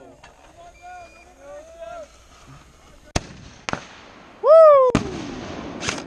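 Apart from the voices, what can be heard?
pyrotechnic explosion at a battle reenactment event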